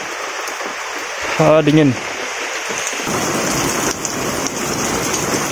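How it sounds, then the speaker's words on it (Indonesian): Rain pours steadily onto a small outdoor bird aviary, a dense, close hiss that holds throughout, while a person briefly says a word over it. "Jadi ini suasana di aviari di saat lagi hujan."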